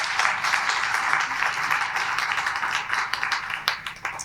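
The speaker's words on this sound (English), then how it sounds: "So we give them a round of applause for organizing this event." Applause for the organizers at a trails summit in Haverford Township, a moderately sized crowd clapping steadily and fairly close, thinning toward the end with a few last claps.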